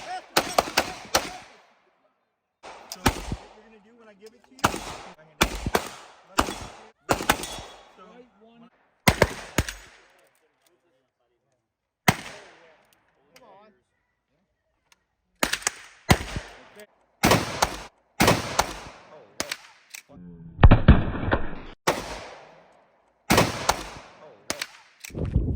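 Guns are fired outdoors at a friend's place, with loud sharp single shots and quick rapid bursts separated by silent pauses, including one longer ringing burst near the end.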